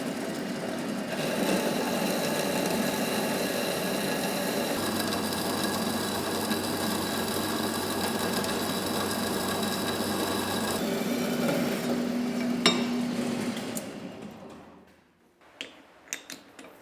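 A Johnson band saw cutting a 4140 pre-hard steel bar, a steady mechanical hum with a tonal whine and rasping blade, running evenly before winding down and stopping near the end, followed by a few faint clicks.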